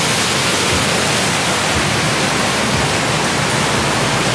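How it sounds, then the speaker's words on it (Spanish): Las Piletas waterfall in Aratoca, Santander, Colombia pours in a steady, loud, broadband roar that fills the whole clip without a break, heard up close with no voices. "en la famosa cascadas Las Piletas"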